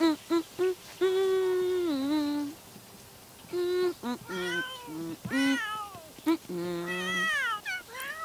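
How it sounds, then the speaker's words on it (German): A cat in the video game The Sims 3 meows repeatedly, a series of drawn-out, rising and falling cries in quick succession, close and clear, with short pauses between them. "Schau, die Katze möchte auch was"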